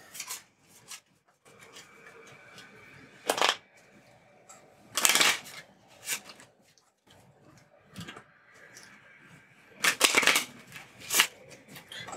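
A deck of game cards for a hybrid card and board game is shuffled close by in several quick riffling bursts separated by quiet pauses.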